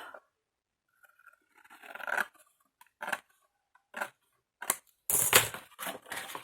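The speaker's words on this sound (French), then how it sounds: "Et là, je veux couper celui-là." Washi tape strips cut with scissors in a scrapbooking storage project: several separate crisp snips and crunchy cuts, close up, with quiet pauses between them and one louder, longer cut near the end.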